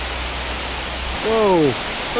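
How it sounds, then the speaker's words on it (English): Rushing water at an urban spillway rapids holds steady as broadband noise throughout, with a brief voice sweeping in briefly over it near the middle. "We're gonna ease our way into these rapids very, very slowly."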